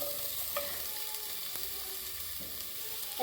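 Onions fry in coconut oil in a pan, a steady soft sizzling hiss that holds evenly throughout, quiet and close, with no talking.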